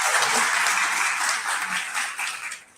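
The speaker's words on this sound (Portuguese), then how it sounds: "Agora receba a calorosa salva de palmas do povo." A church congregation applauding a bishop, a dense burst of many hands clapping at once that holds steady for a few seconds before tapering off, close and loud.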